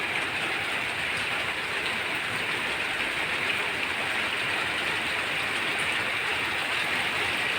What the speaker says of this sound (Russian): Летний дождь.